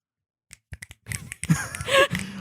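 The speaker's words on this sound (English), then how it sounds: "Why are we snapping after we booing?" Several sharp finger snaps ring out in a quick irregular series, followed by overlapping snaps and busy background voices and sounds, close and fairly loud.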